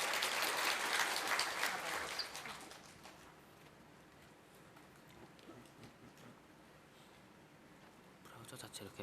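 A conference audience at a Python lightning talk bursts into applause that fades after about two seconds into quiet room noise, with a brief renewed patter of clapping at the end.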